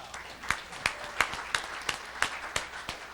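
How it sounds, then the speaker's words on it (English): Applause from an audience, steady rhythmic clapping with evenly spaced loud claps over a bed of quieter hand claps, close and continuous, no talk. "Give him another big round of applause."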